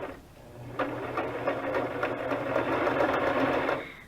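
A sewing machine runs a dotted stitch in one continuous burst of rapid mechanical whirring and clicking, close and fairly loud, starting abruptly and stopping cleanly near the end.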